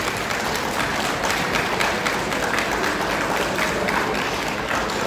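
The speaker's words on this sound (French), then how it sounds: "On doit applaudir fort pour que Nathalie ait de la force pour se lever," Applause from an audience at a Cameroonian community wake gathering in New York, dense steady clapping filling the whole stretch at even loudness, no voices standing out.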